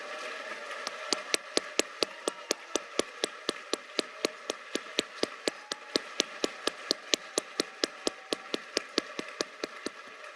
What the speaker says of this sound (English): I want you guys to give them an additional round of applause